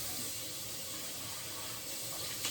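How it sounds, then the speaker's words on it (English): Tap water runs steadily into a bathroom sink as someone rinses off after shaving a beard, a continuous soft hiss heard close and alone without talk. "Let me rinse off."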